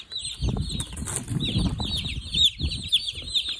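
Baby chicks in a brooder peep constantly in high, rapid chirps, a busy chorus of many birds close by, with soft rustling and scratching underneath and no talking.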